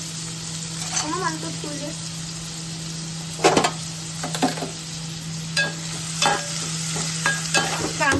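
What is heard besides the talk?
onion, curry leaves and chili frying in a pan for khichdi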